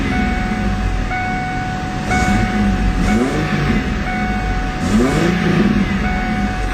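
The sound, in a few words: 1998 Ford Mustang V6 engine revving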